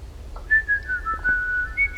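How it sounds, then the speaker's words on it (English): A clear whistled melody from a song, held as long, smooth, sliding tones over a low bass rumble, fairly close and prominent throughout. "Whistling."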